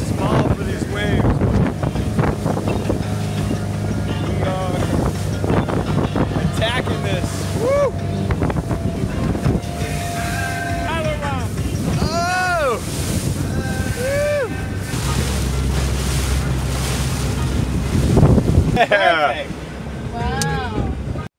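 Wind buffets the microphone and waves wash around a small boat at sea off Syros, Greece, a continuous roar with voices talking and exclaiming over it.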